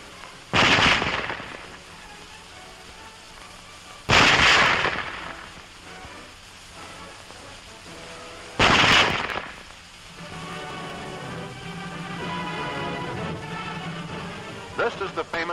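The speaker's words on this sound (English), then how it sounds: "Loading and firing the Model 98K is the same as our own Springfield" A German Model 98K bolt-action rifle fires three loud, sharp shots spaced several seconds apart, each with a brief echoing tail, while someone talks over and between them.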